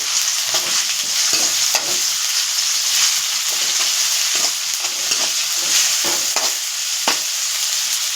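Ginger garlic paste fries in a hot pan, a loud continuous sizzle broken by repeated scraping strokes of a spoon stirring at an uneven rhythm, with no talk.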